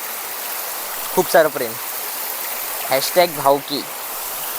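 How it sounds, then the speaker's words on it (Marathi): A small waterfall pours steadily at a Konkan hillside spot, a constant broad rush of water with a voice speaking briefly over it twice. "इथे मग धबधबा आहे, स्मॉल वॉटरफॉल्स"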